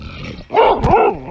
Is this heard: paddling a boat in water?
no